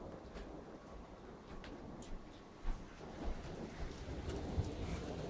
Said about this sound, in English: I still appreciate a good storm.